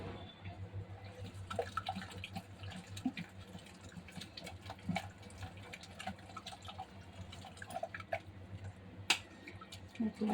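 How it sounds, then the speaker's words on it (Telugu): Tamarind is squeezed by hand in water, giving faint, irregular wet squelches, splashes and drips that come and go over a low background hum. "చింతపండు అయితే పిసికేద్దాం."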